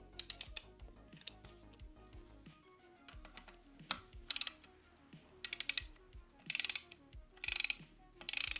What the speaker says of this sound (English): I'll just do it with the torque wrench.